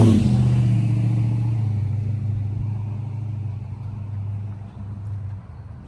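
Car engines idle and rumble at a car meet, one loud vehicle close by at the start and slowly easing off, with the engine noise continuing steadily without talk.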